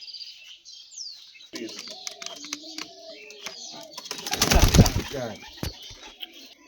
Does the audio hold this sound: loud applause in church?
no